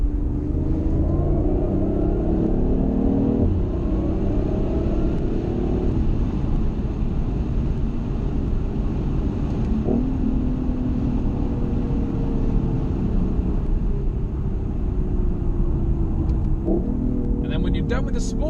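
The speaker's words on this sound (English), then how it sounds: "So let's listen to the engine for a little bit." A BMW i8 supercar's engine runs steadily and loudly throughout, a continuous low rumble with a few brief surges in revs.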